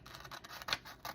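A few crisp snips of scissors cutting paper, close and fairly quiet, with soft rustling in between.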